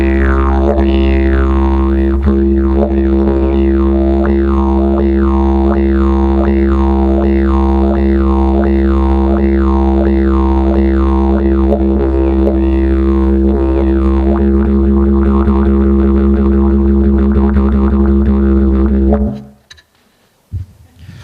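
A traditional Aboriginal instrument, likely a didgeridoo, drones loudly with a rhythmic pulsing pattern of repeated bouncing swoops evoking a red kangaroo hopping, holding steady for nearly twenty seconds before stopping abruptly.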